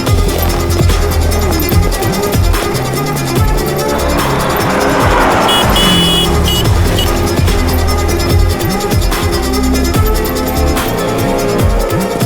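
A car pulls away fast with a loud engine roar and squealing tires, mixed with dramatic film music and sound effects in a Hindi-dubbed action scene.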